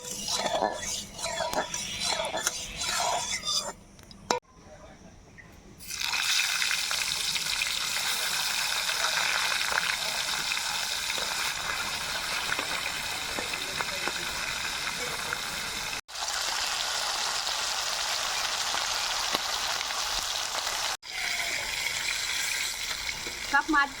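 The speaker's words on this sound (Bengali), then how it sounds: "মাছ ভাজার জন্য কড়াইয়ে সরষের তেল দিয়ে দিয়েছি।" Pomfret fish fry in mustard oil in a wok with a loud, steady sizzle that runs almost without pause, broken only by a few brief dips.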